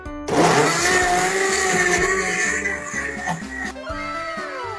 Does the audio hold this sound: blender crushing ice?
yes